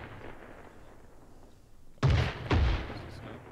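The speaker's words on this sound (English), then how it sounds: "Gun turned towards us, got hit by another mortar." Mortar shells slam into a gun position in a war video game: two sharp, heavy blasts about half a second apart break a low ambient hum, each with a short rumbling tail.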